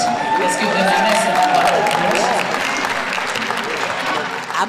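Audience applause fills a jazz awards ceremony hall, a steady, dense clapping crowd for the evening's sponsors, sustained throughout with a tone or voice faintly mixed underneath.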